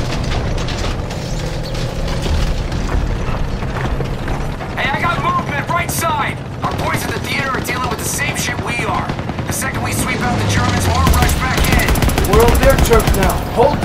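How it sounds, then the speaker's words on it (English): Small arms fire rattles through a Call of Duty WWII battle, with rapid machine-gun bursts, clattering weapon mechanisms and low rumbling booms layered loudly and continuously, plus a voice briefly under the din. "Small arms fire."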